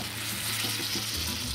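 Water pours into a hot paella pan and hisses against the pan, a short, dense burst of sizzling and rushing liquid, heard up close with no voices.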